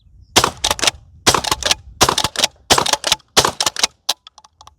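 A 12 gauge shotgun fitted with a JK 195 suppressor fires birdshot in a rapid string of sharp, close reports, about a dozen shots in uneven clusters separated by short silences.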